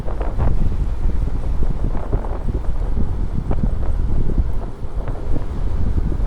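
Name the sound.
strong wind blowing into the microphone while riding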